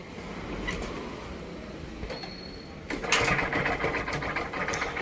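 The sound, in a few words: Hero Glamour motorcycle engine running with crank noise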